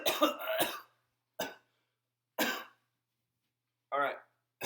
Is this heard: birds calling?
no